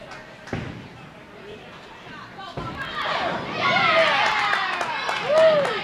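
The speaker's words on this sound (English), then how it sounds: "a good mix of support here in the crowd today" At a college bowling invitational, the crowd cheers and shouts at a rising, excited pitch, with many overlapping voices and sharp impact knocks breaking through the noisy hall.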